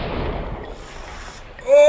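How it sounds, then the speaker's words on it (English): A grenade explosion in the video game Max Payne 2 opens with a loud, broad blast that decays over about a second and a half, then gives way to a brief tonal sound. "Oh, grenade."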